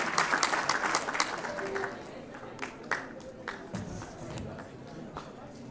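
A crowd at a students' cultural day in Kigali claps for an elder, with a loud burst of applause that fades after about two seconds into scattered, sparser claps and background murmur.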